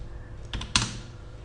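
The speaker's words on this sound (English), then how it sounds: "So we can straight away, type it from the keyboard itself." Keys on a computer keyboard are pressed in a short burst of a few close clicks, with one sharper keystroke standing out, while typing an equation into Word 2003.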